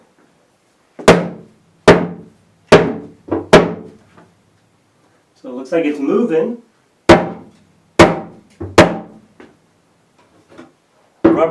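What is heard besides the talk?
hammering out wooden cabinet shelves with rubber mallet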